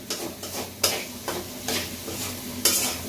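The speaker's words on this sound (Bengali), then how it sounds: "তো এখন এটাকে ভালো করে একটু ভেজে নিই।" Food frying in a pan with a steady sizzle, broken by several distinct scraping stirs of a spatula against the pan at irregular intervals, heard up close with no talking.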